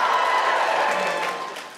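An audience at a live stand-up comedy show at the Apollo cheers and applauds in a steady wash of clapping that slowly fades.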